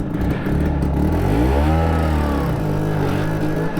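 Vespa scooter engine with electric start and factory electric ignition, idling loud and close, then briefly rising in revs and settling back to a steady running drone.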